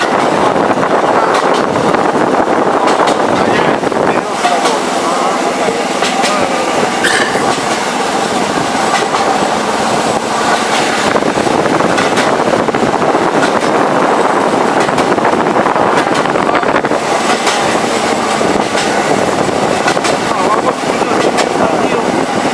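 A narrow-gauge railway draisine runs along the rails of a peat-mining line, giving a loud, continuous rumbling and rattling clatter with wind buffeting throughout, and voices talking in places over the noise.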